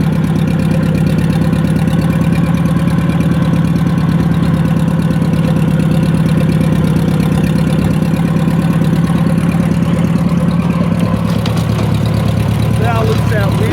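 An old repaired tractor engine runs continuously and loudly nearby with a steady low rumble and fast even firing pulse, while someone speaks over it.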